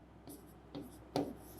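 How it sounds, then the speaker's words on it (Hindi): A pen writing figures by hand on paper, three short scratchy strokes, close and fairly quiet, the last one the loudest. "यहाँ लिख देता हूँ"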